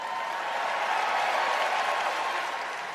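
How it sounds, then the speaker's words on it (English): A crowd at a political event applauds and cheers a speaker, a broad, even roar of clapping and voices heard at a steady, moderate level. "They're cheering him."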